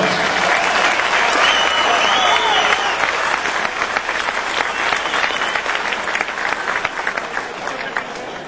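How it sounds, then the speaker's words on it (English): Audience in an arena gives a dense, sustained round of applause for manufacturers, dealers and distributors, loud and continuous throughout, gradually thinning slightly toward the end with no voice over it. "They deserve a round of applause"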